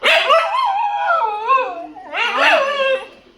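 A dog howls in long wavering tones, pauses briefly, then lets out a second rising howl with yelping edges, loud and close.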